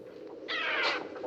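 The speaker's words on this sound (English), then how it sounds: "the only sound is this creepy fluttering of wings and cawing of birds" Birds cawing and wings fluttering in Hitchcock's film The Birds: a harsh, loud burst of raspy cawing with a flapping rush, standing out against a quiet low background.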